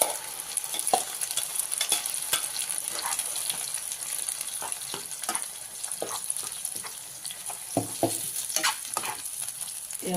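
Onion and tomato paste sizzle in hot oil as a spoon stirs and scrapes the pan in irregular strokes, close and fairly loud, with a constant frying hiss underneath and no talking.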